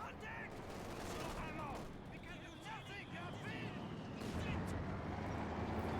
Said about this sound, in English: snipers shooting, tanks are firing